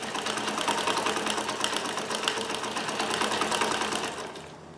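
A Necchi Supernova Ultra free-arm sewing machine runs steadily, stitching a zigzag with a fast, even mechanical chatter throughout, easing off slightly at the end.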